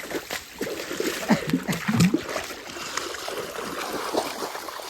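Stream water is splashed while a vehicle is washed outdoors, producing irregular close splashes and trickles in quick bursts, with faint voices and background activity.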